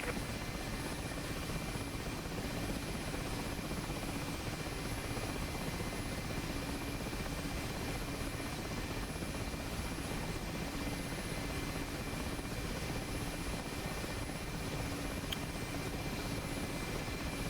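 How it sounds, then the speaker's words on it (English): An Mi-8 helicopter flies in the combat flight simulator DCS, its rotor and turbine drone steady and unbroken throughout with no talk over it. "Yes, this helicopter is great. It's like a limousine."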